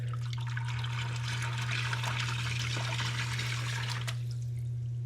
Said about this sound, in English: You see how powerful that water flow is.